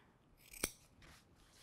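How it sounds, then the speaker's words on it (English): Scissors make one short, crisp snip while clipping a fabric seam close to its edge during sewing of a fly front zipper, alone in a quiet room. "And then here, I'm just going to clip"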